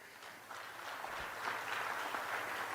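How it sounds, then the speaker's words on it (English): Applause from delegates at a NEHAWU union congress, a steady, fairly faint wash of clapping from a large hall that holds through the whole stretch with no voices over it. "But I want the Congress to really give NEHAWU Gauteng a big round of applause."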